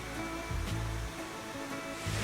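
Distant waterfall in Northern California, a steady broadband roar of falling water heard from a trail bend, continuous and moderately loud with slight low rumble, no voices.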